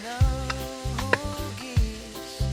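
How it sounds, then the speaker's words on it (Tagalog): Pork chop frying in a pan until browned, a steady sizzle with occasional clanks and scrapes of a utensil, close up with no talking. "Priprito natin yan."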